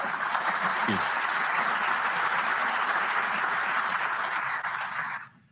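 A conference audience at the 61st Munich Security Conference applauds JD Vance, a dense, even roar of many hands clapping at moderate loudness that holds steady before tapering off sharply at the end.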